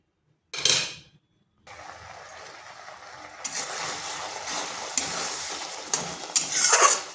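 Potol curry bubbles and sizzles in a pan. A brief burst is followed by a pause, then a steady simmer that grows louder, with stirring clatter near the end.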